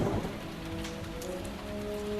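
Steady rain on a Thursday night, a dense continuous hiss with a faint low hum beneath, even and unbroken from start to finish.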